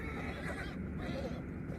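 Horses neigh and whinny as a sound effect in a Dracula audiobook, where Slovak drivers go to their horses' heads; the whinnies come in a steady, fairly faint stretch with a soft clopping texture underneath.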